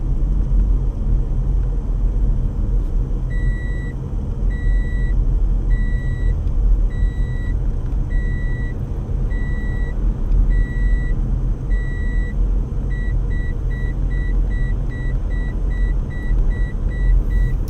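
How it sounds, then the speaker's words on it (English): A car seatbelt warning chimes in repeated high electronic beeps at a steady pace, speeding up toward the end, over the constant low rumble of a car interior on the road. "now they're going to hear beeping"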